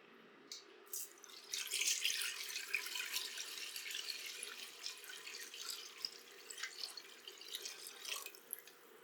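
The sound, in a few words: water being poured into a pot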